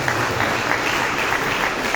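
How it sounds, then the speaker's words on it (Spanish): Applause from a conference audience for the winner of an innovation challenge, steady clapping from a moderate crowd throughout. "un aplauso especial para ella, doble por ese trabajo"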